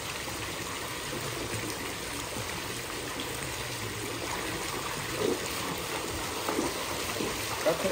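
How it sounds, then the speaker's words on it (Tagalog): Strong flowing water rushes in a continuous, loud, close wash, broken only by a few faint knocks. "Kusog lagi ang tubig ron."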